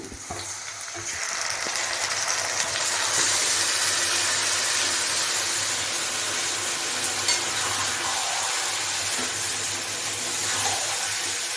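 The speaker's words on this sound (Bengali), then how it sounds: "মাংসটা মেখে রেখেছিলাম, মাংসটা এবারে দিয়ে দেবো।" Marinated meat, left to soak in spices for about an hour, frying in a pan in a village kitchen, with a steady broad sizzle and occasional stirring scrapes, close and continuous without talk.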